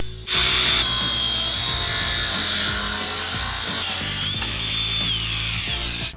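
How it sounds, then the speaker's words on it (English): A power tool cuts through clamped rusty metal rods with a harsh, sustained grinding rasp that stays loud and close for the whole stretch, with no voices. "I'll simply try to cut through the clamped rods."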